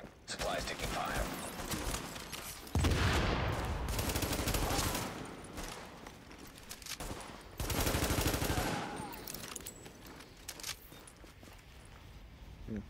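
Sustained game gunfire from Tom Clancy's The Division, bursts of automatic fire and fusillades rolling through the whole stretch, loudest in two heavy surges, with voices talking over the shooting.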